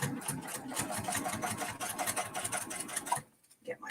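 A sewing machine back tacking a mini-quilt, its rapid needle rattle close and steady for about three seconds before stopping, after which a voice speaks briefly.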